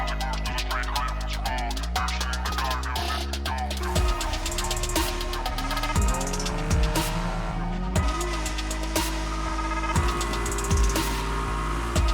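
Cars race and drift in a video game trailer, with engine roar and tire squeals running through a loud, dense, continuous mix that stays full and steady throughout.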